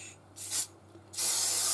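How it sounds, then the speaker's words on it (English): An aerosol spray can sprayed onto the outside of a honeycomb ball decoration in three close hissing bursts, the last one longest and loudest, with no talking. "so we're going to spray"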